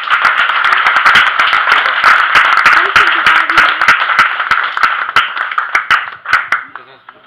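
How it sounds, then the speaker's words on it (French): An audience applauds a 2017 tournament prize winner, runner-up in the 45+ category and champion in the 35+ fourth series. The clapping is close and lively with sharp individual claps, thinning toward the end, and a voice can be heard over it. "on peut l'applaudir"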